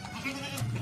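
A Beetal goat, the long-eared kind, gives a brief bleat, close and moderately loud against a noisy, breathy background.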